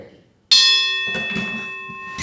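A bell is struck once and rings out with a long, bright, sustained tone, while voices murmur underneath.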